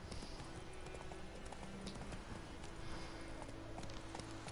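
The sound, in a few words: Geralt's horse Roach trotting and neighing, from The Witcher video game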